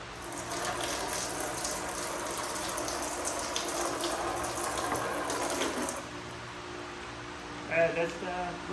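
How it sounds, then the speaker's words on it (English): Transmission fluid drains from a Honda Fit in a steady, hissing trickle for about six seconds, then tapers off to faint dripping. The sound is quiet and close, with brief murmurs of speech near the end. "I'm going to drain the fluid right now"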